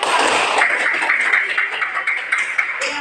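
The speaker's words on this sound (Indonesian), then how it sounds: "beri tepuk tangan" Students in an Islamic religious education class clapping for a classmate's answer, a brief close burst of hand claps that thins out toward the end.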